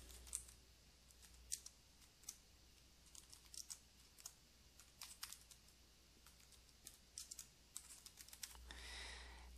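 Quiet keystrokes on a computer keyboard while typing into a Word document, irregular soft clicks and taps scattered throughout, fairly faint and close, with no talking.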